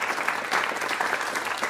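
A conference crowd gives a dense, continuous burst of applause for the next speaker, many hands clapping at once in a fairly loud wash with no pauses.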